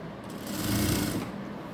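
A sewing machine runs steadily as it stitches an umbrella-style sleeve in a round seam. The close, continuous mechanical whirring swells slightly midway and is heard alone, with no talk.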